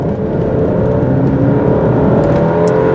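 A 2018 Alfa Romeo Stelvio's engine pulls under acceleration, a loud, continuous drone with a rising tone and steady road roar, heard from inside the car.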